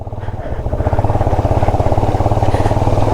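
A motorcycle ridden over a rough, stony road gives a steady, close engine drone with a pulsing rhythm that holds throughout, with no clear talk.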